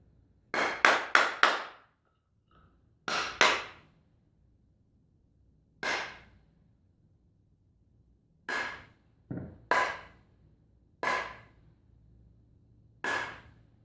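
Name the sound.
hammer tapping a hand plane blade to align it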